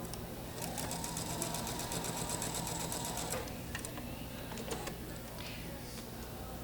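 A sewing machine runs a quick burst of rapid, even stitching along a quilt seam, stops, then gives a few shorter pulses and clicks up close.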